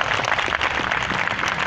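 A crowd at a TMA employees' iftar dinner in Attock City, Pakistan, applauding sanitation inspector Amir Ilyas: dense, steady clapping from many hands, loud and close, lasting a brief moment with no talk over it.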